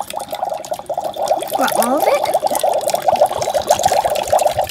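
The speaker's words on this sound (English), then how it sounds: "Okay, so now we're gonna put in the water." Water pours steadily into a Magic Mixies toy misting cauldron, a continuous close splashing fill lasting several seconds, with a child's brief question spoken over it.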